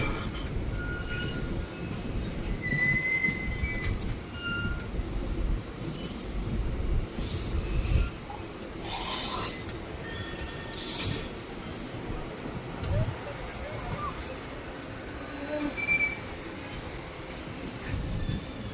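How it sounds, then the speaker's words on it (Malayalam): A DEMU train runs on rails near Vriddhachalam on the Salem line, heard from inside as a continuous low rumble with rhythmic wheel clatter and occasional squeals. A voice talks intermittently over it. "നമ്മുടെ ട്രെയിൻ എങ്ങനെ അപ്പം വൃദ്ധാചലം റെയിൽവേ സ്റ്റേഷനിലോട്ട് എത്താറായിക്കൊണ്ടിരിക്കുകയാണ്"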